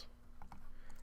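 Soft computer keyboard typing, a few scattered keystrokes at close range over quiet background hum.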